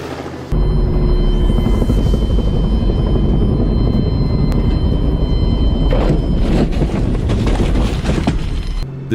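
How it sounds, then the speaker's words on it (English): Helicopter engines roar loud and close during a wild boar hunt in Mississippi, a steady, dense rotor and turbine din that starts abruptly and holds for the rest of the clip. "After 15 tense minutes of roaring helicopter engines, they finally detect traces of their prey"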